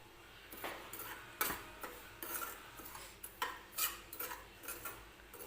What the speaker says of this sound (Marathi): एक वाटीभर रवा घेतला आहे मी व्यवस्थित भाजून घ्यायचे आपल्याला